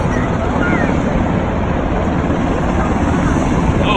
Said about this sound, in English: Here comes the Black Hawk, I think.